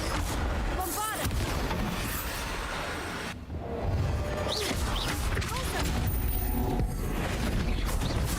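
Bombarda spell blasts in Hogwarts Legacy, heavy booming crashes and impacts amid dense combat noise, loud and continuous, with a voice speaking over the action.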